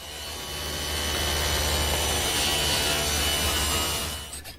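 A power tool bevels the bottom edge of a vertical wooden piece in a woodworking shop, a steady loud grinding whine of cutting that swells in, holds for several seconds, then fades.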